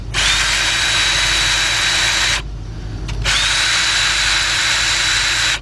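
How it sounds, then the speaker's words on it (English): A half-inch cordless impact gun runs on a 2003 Jeep Liberty 3.7 engine during a rebuild, giving a loud, continuous whirring whine that stops briefly and then resumes. "I'm gonna get my cordless gun."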